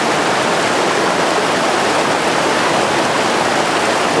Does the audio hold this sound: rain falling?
yes